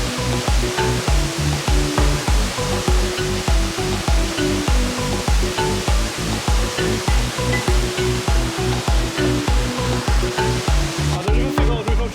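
A hidden waterfall in the Jamaican countryside roars loud and close, a dense continuous rush of falling water with a rhythmic pulsing running through it from start to finish.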